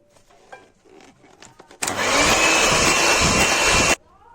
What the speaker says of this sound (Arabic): نضرب تاني كده البيضة لما تختفي خالص.